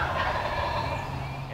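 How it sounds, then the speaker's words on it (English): A wild turkey gobbles from its roost in a single rattling, somewhat distant call, heard alone against quiet outdoor background. "This is a roosted turkey."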